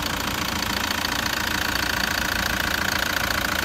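A 2013 Toyota Land Cruiser Prado GXL engine idles steadily in the engine bay, a constant close-up mechanical drone with a slight knocking texture and no other sounds.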